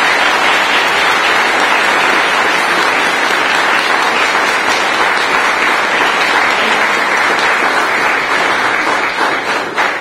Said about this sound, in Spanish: un fuerte aplauso a San Isidro Labrador